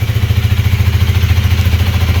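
A 2019 Honda Rebel 300 motorcycle with its stock exhaust idles up close, a steady low, pulsing thump with a fast regular rhythm and no one talking.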